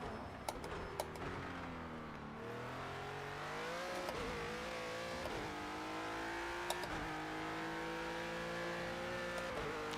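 Renault Cup race car engine in Project CARS 2, racing around Circuit of the Americas, revving steadily with rising and falling pitch through gear changes, loud and continuous, with a few sharp clicks of shifts.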